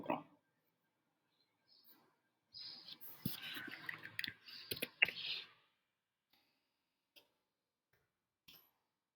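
Computer keyboard typed while a program is written, heard as bursts of clicky keystrokes: a brief tap at the start, then a dense flurry of key presses for about three seconds and a few scattered later taps, all fairly quiet.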